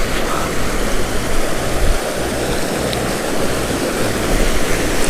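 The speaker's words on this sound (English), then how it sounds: "river's flowing actually pretty good." The Whitewater River flows strongly in the desert near Mission Creek Preserve, a loud, steady rush of water filling the whole clip with no voices.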